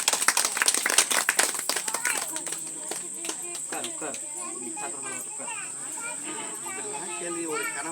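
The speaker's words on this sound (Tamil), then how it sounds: "கைதட்டுங்க கைதட்டுங்க" An audience breaks into clapping, a burst of dense, sharp claps at the start that thins out after a few seconds as a voice talks over the sound and a steady hiss runs throughout.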